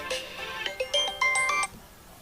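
A mobile phone ringtone plays a short, bright electronic melody of rising and falling notes, heard alone and fairly close.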